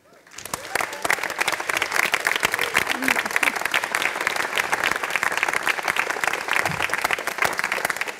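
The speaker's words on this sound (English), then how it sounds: "So a big round of applause to the team." Loud, dense applause from a crowd at a startup demo day closing, sustained rapid clapping that swells in quickly and stays full for several seconds, with some faint voices mixed in.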